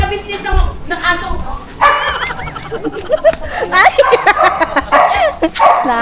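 Dogs being groomed bark, yip and whimper in a busy mix of loud close barks and higher yelps, while people talk over them.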